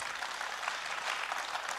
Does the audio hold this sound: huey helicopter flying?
no